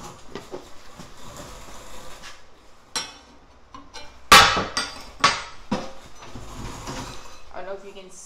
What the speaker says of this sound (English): so I'm gonna bring out my chisel.